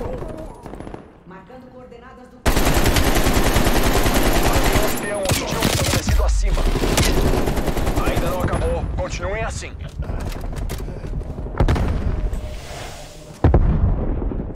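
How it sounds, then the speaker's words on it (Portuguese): Dense, loud automatic gunfire and explosions from a Call of Duty Black Ops Cold War multiplayer match pour out in sustained bursts after a quieter opening and fade briefly near the end, with a player talking over the action. "Cara, vem muito tiro, muito tiro."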